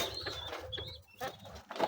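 Soft pigeon coos come and go over a faint background, with a few brief chirps and rustles, from breeding pigeons.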